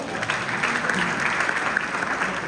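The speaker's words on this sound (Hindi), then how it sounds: "तो एक बार मोदी जी के लिए तालियां बजा दें।" An audience at a Hindi satire recital in Chicago breaks into steady, dense applause that holds evenly throughout without any talking over it.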